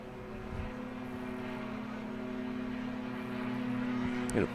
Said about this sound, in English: And a plane flying somewhere.